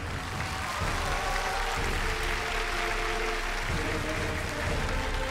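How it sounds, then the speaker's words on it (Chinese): A studio audience at a Chinese relationship-mediation show claps steadily to welcome a couple onto the stage, a sustained, even wash of applause at moderate volume. "掌声请出这一对，掌声有请。"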